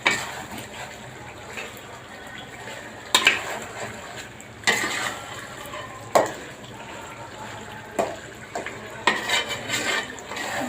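Chicken roast masala with salt, cumin and garam masala being stirred in a pot, with a spoon scraping and clinking against the metal in irregular bursts over a low, steady background hiss.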